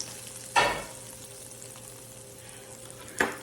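Two sharp bursts of sizzling, hot oil hitting a mixture, each fading quickly into a quiet hiss.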